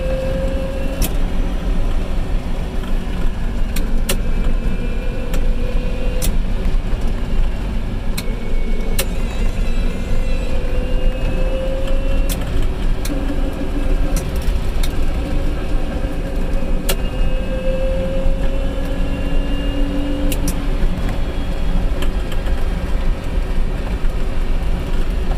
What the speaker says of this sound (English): all the clicking you hear is me pressing the accelerator at different levels of speed